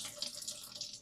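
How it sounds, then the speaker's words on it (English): Water flushes out through the hopping port valve of a Pinter home brewing keg during cleaning, a soft steady hissing trickle heard up close and faint, with no talking. "most of the water now has been exited through the hopping port"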